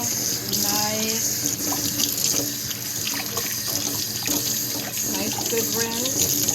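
Tap water runs steadily into a sink while spinach is rinsed under it, a loud continuous splashing stream with small bursts as the leaves are moved, and a voice briefly heard in the background.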